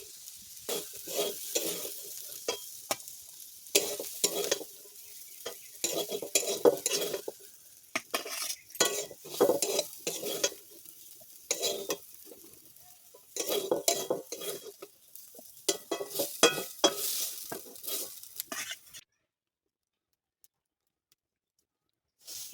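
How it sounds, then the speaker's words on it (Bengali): Ingredients for chowmein fry in a kadai with bursts of sizzling and repeated scraping and clanking of a spatula against the metal, in irregular stirring strokes, followed by a short silence near the end. "এগুলো ভাজা ভাজা হয়ে গেছে, প্রায় কড়াই জড়িয়ে যাচ্ছে।"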